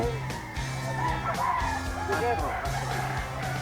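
An 18-month-old gamefowl bull stag rooster crows loudly nearby, its call ringing over a steady engine-like hum, with short clucks and other fowl sounds mixed in and voices faintly in the background.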